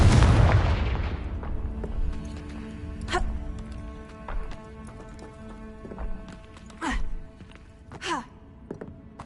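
A loud booming burst from the Confringo fire spell in the video game Hogwarts Legacy, fading into game ambience with scattered clops and thuds.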